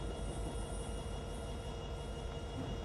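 A superfast express train departs in Microsoft Train Simulator, giving a continuous loud rumble of wheels on rails with a steady mechanical drone, heard alone.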